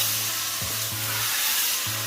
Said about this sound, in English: We've added the meat, and then what we're going to do, we're going to make sure that we're stirring constantly